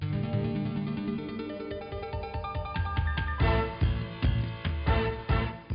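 Upbeat 1990s corporate-style music from the LEGO Island video game plays alone, with a steady rhythmic beat and bright layered synth chords that grow punchier partway through.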